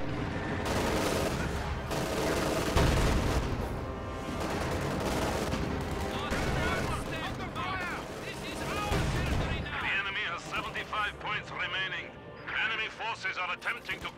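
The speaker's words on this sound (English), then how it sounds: "Panzerwerfer firing at pretty long range" A Panzerwerfer rocket barrage with surrounding gunfire in a strategy video game: a long rumbling roll of launches and impacts, then scattered crackling shots, loud and dense, with someone commentating over it.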